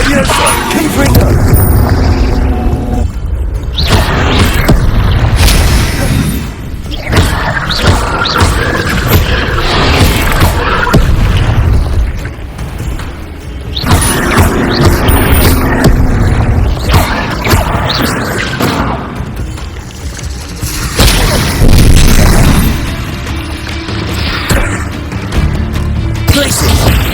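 Confringo blasting spells explode in the Hogwarts Legacy video game, with loud repeated booms and crashes mixed with dense combat effects that keep the sound full and heavy throughout.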